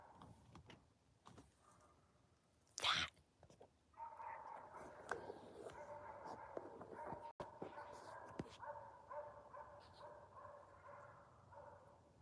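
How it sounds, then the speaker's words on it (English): A dog yelps and barks in the distance amid a quiet outdoor scene, with a steady hum rising partway through. "You hear the dogs?"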